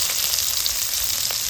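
Green chillies sizzling in hot oil for Bengali cooking, a dense, steady, close crackling hiss with a brief stir near the end, no talking.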